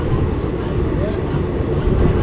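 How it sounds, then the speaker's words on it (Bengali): Kolkata–New Jalpaiguri Intercity Express train halted at Harishchandrapur station, giving a steady, loud low rumble of engine and carriages with continuous onboard noise and no clear speech. "আমাদের ট্রেন এই মুহূর্তে এসে পৌঁছেছে হরিশ্চন্দ্রপুর স্টেশনে"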